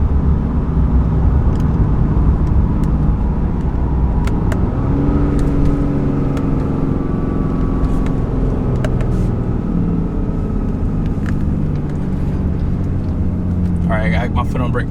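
A RAM 3500 pickup on 35-inch tires, leveled, tows a 15,000-pound load up a 6% grade in fourth gear; its engine drones steadily and loudly throughout, with a voice talking over it.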